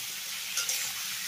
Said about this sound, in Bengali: এবার মিডিয়াম হাই ফ্লেমে এই এঁচড়টাকে আমি হালকা ব্রাউন করে ভেজে নেব।